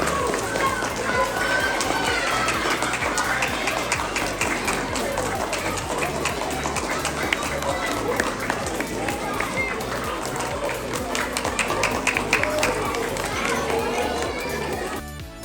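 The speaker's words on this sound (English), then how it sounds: "Let's give a round of applause to our fourth grade teachers." Sustained crowd applause at a fourth grade school assembly, dense rapid clapping with children's cheering and chatter mixed in, holding steady before tapering off at the end.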